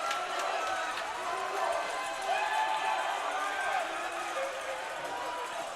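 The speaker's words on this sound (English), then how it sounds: "The crowd going crazy, baby." Crowd roaring and cheering at a varsity high school hockey game after a goal, a sustained loud wash of voices filling the rink, with announcer commentary over it.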